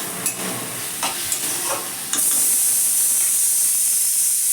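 Vegetables for a pea dal fry in a hot pan, first with a few scraping stirs, then a sudden loud, steady hissing sizzle that carries on to the end.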